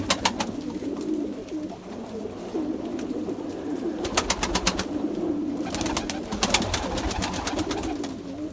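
Pigeons in a coop under the eaves on a rainy evening in İzmir coo in a low, continuous burble, broken by bursts of wing flapping and scuffling nearby.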